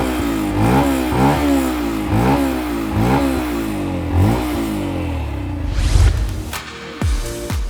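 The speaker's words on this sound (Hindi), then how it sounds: "इसका एग्जॉस्ट का साउंड काफ़ी अच्छा है" A Yamaha FZ-X motorcycle's exhaust revs repeatedly up and down in loud, close bursts, with a rhythmic rise-and-fall pattern before a sharper final blip and a few clatters.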